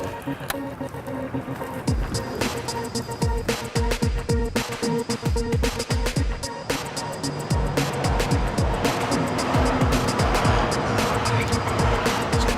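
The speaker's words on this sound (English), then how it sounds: "Houston traffic, baby." Houston road traffic rolls past in a dense wash of tire and engine noise, broken by frequent sharp clicks and thumps, loud and steady throughout.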